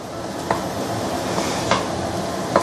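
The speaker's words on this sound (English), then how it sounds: "use low heat to slowly saute this for a couple of minutes" Curry powders saute gently in oil over low heat, a soft steady sizzle with three light scraping stir strokes spaced about a second apart, close and without talk.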